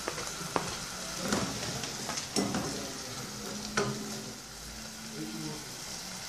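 Onion and bell pepper sautéing in a pan with green herbs for cuscuz paulista: a steady broadband sizzle with spoon stirring and scraping clinks throughout.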